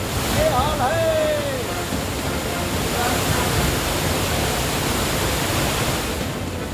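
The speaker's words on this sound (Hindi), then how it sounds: "सैलाब की ये गड़गड़ाहट सुनकर लोग सहम गए।" Monsoon floodwater roars after torrential rain in Uttar Pradesh, a steady, loud, broad rushing wash that fills the whole clip, with a brief faint tonal call near the start.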